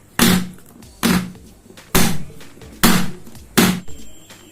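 Five evenly spaced dull knocks from a cake tin full of carrot cake batter tapped against a counter, each one a short thud about a second apart, close and clear with no talking.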